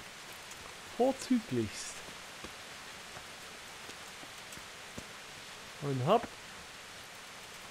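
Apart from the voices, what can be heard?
rain showers in the video game Kingdom Come: Deliverance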